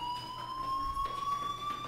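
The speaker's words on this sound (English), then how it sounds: "Well, I mean, there's a fire alarm." A fire alarm ringing in the video game Life Is Strange, a steady, faint electronic tone that holds on continuously and rises slightly in pitch.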